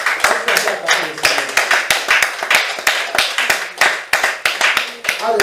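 A church congregation applauding with rhythmic, steady clapping in unison, loud and close, with voices calling out over the beat.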